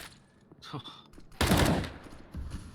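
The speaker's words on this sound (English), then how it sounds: "I didn't even know AK can produce so much damage at that range" AK rifle gunfire during a competitive video game match: a few scattered shots, then a loud sharp blast with a decaying tail and another quieter report, heard among faint voices.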